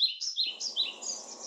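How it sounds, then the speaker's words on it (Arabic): Birds chirp in quick repeated high tweets, bright and near, played back from an Anker speaker over a soft steady hiss, with no voices. "وراح أخلي وياه صوت العصافير شوي"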